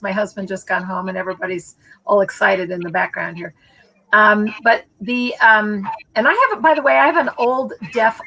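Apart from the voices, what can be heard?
No everyday noises stand out.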